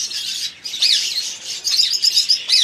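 Budgerigars, big-size Hagoromo and parblue split birds, chirping and tweeting continuously in an aviary cage, bright overlapping calls with short squawks, fairly close and lively throughout.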